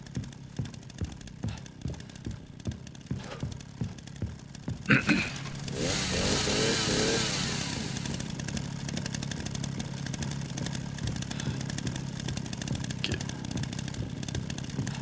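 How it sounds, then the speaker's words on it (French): Chainsaw in the video game Resident Evil Requiem, starting with a sharp pull then revving loudly for a couple of seconds before settling into a steady, buzzing idle that runs to the end. "Ah, ça tombe bien, on a une tronçonneuse."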